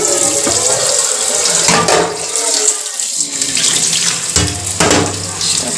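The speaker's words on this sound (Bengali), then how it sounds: "সকাল দিয়ে টিফিন খাওয়ার এত বাসন পড়েছে, সব মাজতে হবে।" Kitchen tap water runs steadily into a sink while breakfast dishes are washed, a continuous close splashing with occasional clinks and shifts in the flow.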